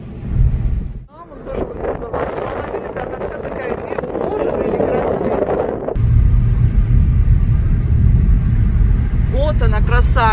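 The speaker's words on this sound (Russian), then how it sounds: "Если что-то интересное, буду просить Мариса, чтобы он просто ехал потише." A car drives along a road through the Provence countryside in France, with a steady engine and road rumble plus wind noise throughout, growing heavier partway through, with brief voice-like sounds near the end.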